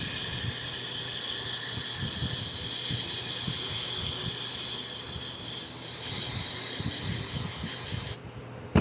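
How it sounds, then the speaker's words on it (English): An aerosol can of carb cleaner sprays in a steady, loud hiss, rinsing the air filter of an Echo SRM-2400 string trimmer, with faint handling knocks underneath before the spray cuts off near the end. "you can rinse this out with carb cleaner"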